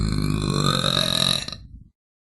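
Deep, drawn-out burp from a streamer, loud and close, a single long rumbling belch lasting over a second before cutting to silence.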